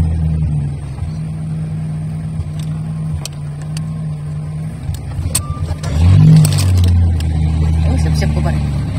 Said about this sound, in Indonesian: Proses tarik mobil.